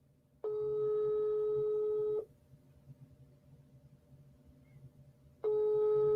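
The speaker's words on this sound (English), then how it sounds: "Look, it's ringing." An unanswered phone call rings out through a handset, two long electronic ringback tones about two seconds each separated by a quiet gap with faint background hum, clear and moderately loud.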